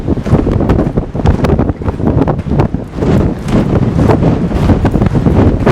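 Strong, steady wind roars through an old tunnel, buffeting the microphone in a continuous loud rush with gusty swells and no pauses.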